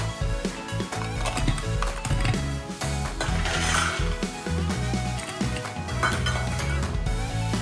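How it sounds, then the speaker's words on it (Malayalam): Ice clinks and rattles into a glass while mixing a Highway to Hell cocktail, a dense run of hard clatter and chinks with dish and utensil knocks, steady and close throughout. "അതിനുശേഷം കുറച്ചുകൂടി ഐസ് ആഡ് ചെയ്യാം."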